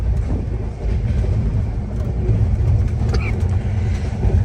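A Millennium Super Fast Express train rolls steadily at cruising speed, a loud continuous rumble and rattle heard from inside the carriage, with faint squeaks over the low roar.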